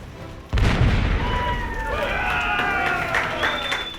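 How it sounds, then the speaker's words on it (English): A pirate-show cannon fires with a sudden loud boom, followed by a sustained roar of crowd cheering, whistles and applause that carries on after the blast. "they let me fire off the cannon."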